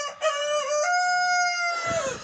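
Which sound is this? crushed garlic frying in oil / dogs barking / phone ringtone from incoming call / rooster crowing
rooster crowing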